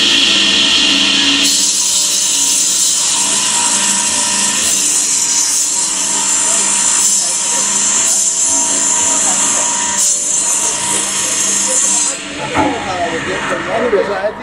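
A cutting machine slices through a tightly clamped bundle of wooden agarbatti sticks, giving a loud, steady sawing hiss that runs continuously for about ten seconds before stopping, with voices talking underneath and after.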